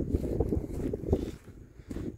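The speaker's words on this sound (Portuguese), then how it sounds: "Conta que aqui tá ventando muito." Strong wind at a reservoir buffets the microphone in low, rumbling gusts that rise and fall, with faint water sounds underneath.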